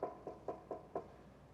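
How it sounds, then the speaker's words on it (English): A wooden door is knocked five times in an even, quick rhythm, each knock soft and muffled at moderate distance, with no voices and a quiet background. "a man knocked on a door."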